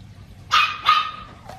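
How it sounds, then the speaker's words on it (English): A dog lets out two quick, loud barks close by, followed by a faint short yip. "That's Penelope barking right now because she over there bothering her"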